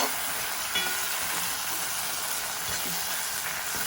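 Cold sauce hits a hot pan and sizzles steadily, a dense, close frying hiss that holds loud and even from start to finish with no talk over it.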